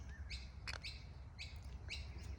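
Bird calls ring out in short, bright bursts of chirps, a few repeated phrases at moderate distance over a low background rumble, with no talking; a kookaburra is the bird named.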